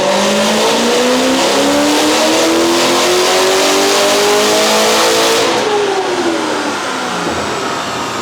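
Corvette ZR1 engine revving hard on a dyno pull with mufflers open, a loud rising wail that climbs steadily in pitch before cutting off and dropping away near the end, without any talking.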